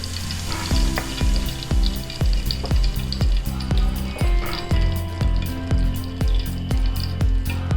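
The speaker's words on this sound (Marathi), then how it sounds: "आता परत तूप घालायचं आहे आणि त्यामध्ये बेसन पीठ व्यवस्थित भाजून" Gram flour (besan) roasting in ghee over low heat for ladoos, a continuous sizzle with rhythmic, repeated scraping strokes from a stirring spatula, close and fairly loud.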